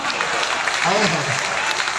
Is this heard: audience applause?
yes